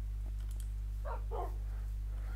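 Two short dog barks from Minecraft dogs, fairly faint and close together, over a steady low electrical hum with faint clicks before them and no speech.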